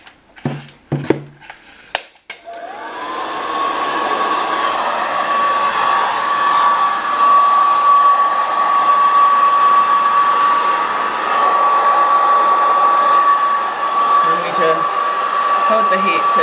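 A hair dryer with a diffuser attachment drying hair: a few close knocks and handling clicks, then the dryer switches on to a loud, steady whirring blow with a high whine that runs on without talk.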